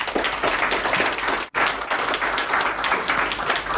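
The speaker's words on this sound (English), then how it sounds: "So may I have a round of applause for our sponsor" Sustained audience applause at a monthly technical meeting, given in thanks to the event sponsor. The clapping is dense and even, broken by one brief cut, with no talk over it.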